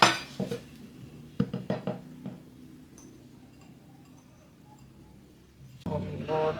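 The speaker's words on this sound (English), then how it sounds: "I want to chop the capers first" Capers are chopped with a knife on a board: a few sharp clicking knocks and clinks in quick clusters early on, then a quiet lull, with a busier burst of clattering near the end.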